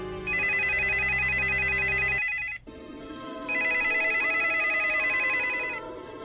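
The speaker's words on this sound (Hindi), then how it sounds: "मेरे घर में जो लैंडलाइन फोन था वो लगातार बजे ही जा रहा था।" A landline telephone rings on and on, its electronic trill sounding in two long bursts separated by a short break, loud and alone.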